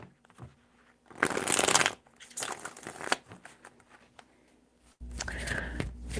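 Tarot cards are shuffled in three bursts of quick riffling and flapping, close and crisp, with soft whispering between them.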